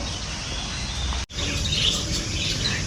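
Birds chirp and call in an aviary at an exotic animal zoo in Pondicherry, faint tweets scattered over a steady hiss of background noise, with a brief dropout partway through.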